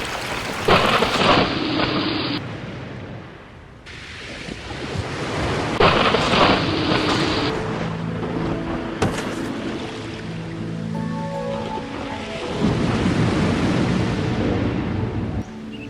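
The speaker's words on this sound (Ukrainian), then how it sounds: "Зараз буде злива." Heavy rain pours steadily while several loud thunder rumbles and cracks roll through, close and powerful, with no talking.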